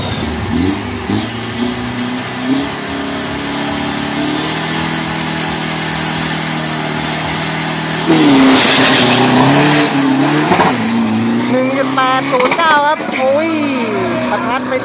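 A 90-body pickup truck with a 3000 cc common-rail engine at a 402-metre drag strip roars continuously, its pitch climbing through gears and swelling louder midway, with tire noise and a commentator talking over it throughout.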